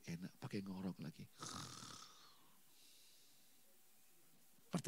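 A preacher at an anointing church service imitates snoring with his voice, producing a short nasal snore-like rasp right after speaking, followed by near-silence.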